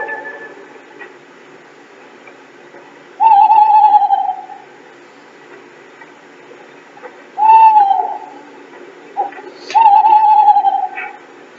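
An owl hoots three times in a 1967 ITV Narnia film scene, each call a clear, close, wavering tone separated by quiet gaps, over a faint low background.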